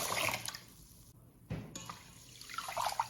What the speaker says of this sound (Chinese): 然后加入清水